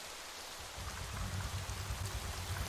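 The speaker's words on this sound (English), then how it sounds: "rain began to splash down onto the roof and windows. It's starting to rain!" Steady rain splashes on a roof and windows in the video game Psychedelica of the Black Butterfly, a dense, even patter with a low rumble that swells slightly partway through, and no speech.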